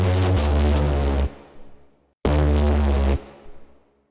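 Jump-up drum and bass synth bass processed through Decapitator, OTT and reverb hits in two loud, gritty sustained bursts, each chopped off abruptly and followed by a short reverb tail fading into near silence.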